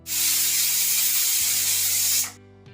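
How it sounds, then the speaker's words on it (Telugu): A pressure cooker of soya kheema biryani on a low flame vents steam in one loud, steady, close hiss that runs about two seconds and then cuts off abruptly, with no talk. "సో కుక్కర్ విజిల్ వచ్చేసింది, ప్రెషర్ కూడా పోయింది."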